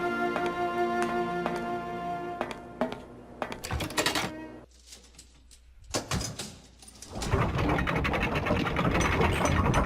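A lever-operated mechanism in the Syberia video game, heard as loud clanking and ratcheting gear noise with metallic knocks, a brief quieter lull, then a sustained dense mechanical rumble.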